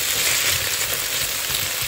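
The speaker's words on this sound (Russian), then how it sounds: "Я ее с Димой жарю, думаю, хватит." Steady, loud sizzling of potatoes frying in a pan, a continuous crackling hiss close by with no talking.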